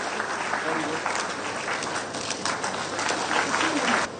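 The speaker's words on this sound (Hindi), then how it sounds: "जोरदार तालियां बजा दीजिए आप सभी।" Audience clapping at an Education Department and HCL Tech MoU signing event, sustained applause that swells toward the end while someone speaks over it.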